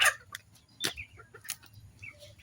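Young pullet hens cluck and chirp in short scattered bursts after feeding, with several close, sharp calls over a low steady farmyard background.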